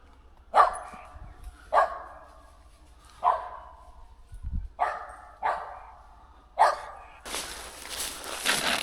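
Squirrel hunting dogs barking at a tree on public land, about six loud separate barks spaced a second or so apart, close by, followed by a burst of rustling noise.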